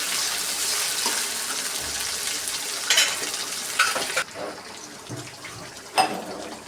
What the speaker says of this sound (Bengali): মশলাটা তো ভাজা ভাজা হয়ে গেছে